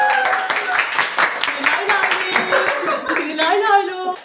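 A small group on a home cooking show claps in a quick, steady rhythm to welcome a guest, with voices and light laughter mixed in close by.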